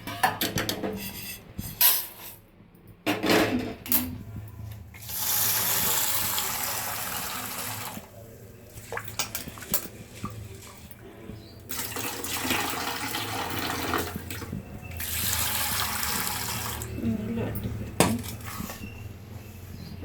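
Roasted fenugreek seeds are rinsed in a kitchen under running tap water, with a steady splashing flow that comes and goes as the seeds are stirred and drained.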